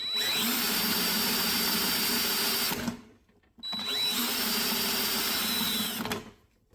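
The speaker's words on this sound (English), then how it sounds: "I got my drill there to spin over the motor" A power drill spins over a lawn mower engine, whirring steadily in two long bursts, each spinning up to a high whine and then winding down, with a short pause between.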